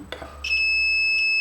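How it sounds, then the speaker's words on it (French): Sharp electronic continuity beep from a multimeter as a capacitor is probed on an Asus ROG G713 laptop board, a steady held tone after a brief click, fairly loud and alone. "si je teste la capa en mode continuité, on va avoir un bip"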